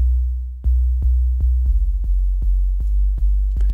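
Synthesizer patch with added noise and tube distortion, sounding as a series of about nine low, thumping pulsed notes with a sustained buzzing low drone, fairly loud and repeating at a steady rhythm, with no voices.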